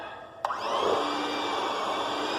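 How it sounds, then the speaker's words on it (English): An electric hand mixer beating raw cookie dough switches on with a click and settles into a steady, loud motor whine that runs without talking. "the problem with my hand mixer is that there's barely a low setting"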